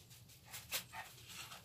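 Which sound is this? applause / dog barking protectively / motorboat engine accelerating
dog barking protectively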